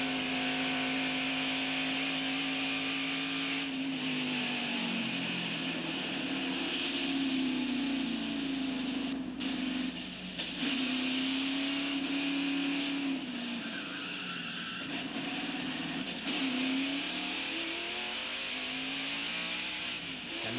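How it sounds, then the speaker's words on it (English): Onboard audio from a 1991 Winston Cup stock car, its engine droning loud and steady with repeated pitch swells and dips as the throttle changes, with no speech over it. "Now, a replay of the crash from Dale Jarrett's in-car camera."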